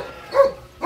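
Several dogs inside a home bark in two short, loud bursts close by, with a brief pause between them.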